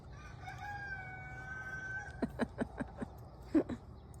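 A rooster crows once in a long, drawn-out call at moderate distance, followed by a series of short clucks.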